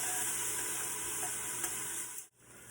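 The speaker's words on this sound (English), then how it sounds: "use my whisk and stir this around" A whisk stirs onions as they caramelize in a hot pan for homemade mac and cheese, making a steady, close frying sizzle with scraping that runs continuously before briefly dropping away.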